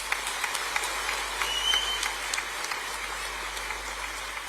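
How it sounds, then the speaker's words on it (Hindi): An audience at a sports awards ceremony in Bhopal claps in a steady, dense wash that sounds almost like rain, a few sharper claps standing out near the front, with no speech heard. "और एक बार तालियां जोरदार हो जाएगी।"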